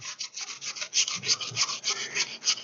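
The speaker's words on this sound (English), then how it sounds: "I'm going to go ahead and grate a little bit more of it while we're going" Potato is rubbed against a grater for latkes in a continuous rhythmic rasping, quick repeated strokes close up and fairly loud, with no voices.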